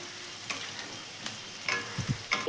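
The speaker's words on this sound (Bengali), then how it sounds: "কাঁচা লঙ্কা ফাটিয়ে দিয়ে দিচ্ছি, দিয়ে এটাও ভালো করে ভাজবো।" Green chillies and chopped onion fry in hot oil with a steady crackling sizzle, punctuated by several short scraping stirs of a spatula against the pan.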